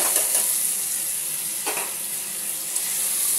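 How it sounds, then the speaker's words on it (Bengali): Sago pearls frying in a pan with two green chillies, giving a steady, fairly loud sizzle with occasional stirring scrapes and faint utensil contact, without any voices. "এবার সাবুটা দিয়ে একটু ভালো করে আমি ভাজবো"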